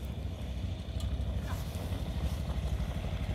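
A motorcycle rides along a dusty village road in the hills, its engine a steady low rumble with road clatter, heard up close and continuous.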